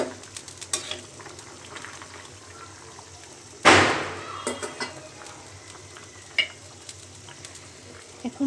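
Raw fish pieces dropped into a boiling rui curry with potato and pointed gourd, one loud splashing sizzle in the middle over a steady low bubbling simmer, with a few small clinks and drips around it.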